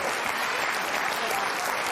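Studio audience at a late-night political talk show applauding steadily, a dense, even wash of clapping filling the whole stretch with no voices over it.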